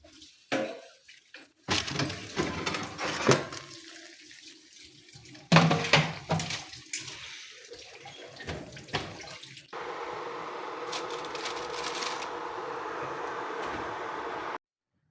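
Rice cooking water poured out of a pot into a sink, a rushing splashing pour in bursts, then a steady running-water stream near and loud with no talk.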